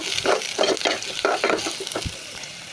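Onions, onion leaves and green chilies frying for a papaya curry, stirred with a run of quick scraping strokes over a steady sizzle, close and fairly loud, with no voices.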